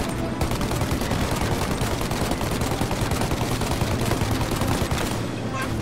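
Dense, continuous automatic gunfire from a shootout at a car in Mafia: Definitive Edition, a loud unbroken barrage of rapid shots that fills the whole stretch.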